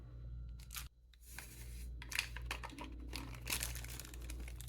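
A ramen seasoning packet is torn open and shaken into the noodles, giving quiet crinkling and rustling with sharp tearing bursts across a few seconds, without speech.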